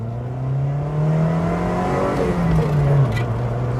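A 1992 Rover Metro 1.1S small petrol engine pulls hard at full throttle up to 30 mph, its rising drone steady and close inside the cabin, with a brief dip at a gear change near the end.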